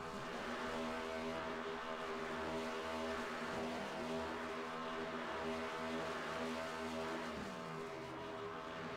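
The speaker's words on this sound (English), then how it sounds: "Here comes a Salter Bice burnout." Sustained race-car engine roar from an iRacing sim stock car doing a burnout at Iowa, steady and loud throughout with layered engine harmonics and no speech.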